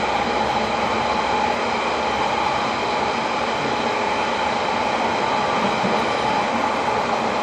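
A night train rumbles steadily along the rails, heard from inside as a loud, continuous roar with a faint high whine and no talk.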